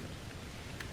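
A rainstorm sound effect hisses as a dense, even wash of rain, fairly quiet and unbroken, with one faint brief crackle and nobody speaking.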